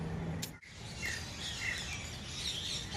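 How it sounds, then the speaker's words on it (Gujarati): White parrots calling in a bird enclosure at Kankaria, a few sharp chirps and squawks over a steady hiss of ambient noise, fairly faint, with no talk. "કેટલો મસ્ત છે આ વ્હાઈટ પોપટ."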